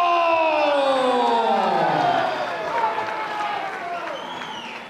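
An arena crowd at a Fusion Fighting Championship MMA cage event applauds and cheers for fighter Alexis Cardoso, a steady roar of clapping and whoops that swells at first and then settles, with a voice ringing over the start.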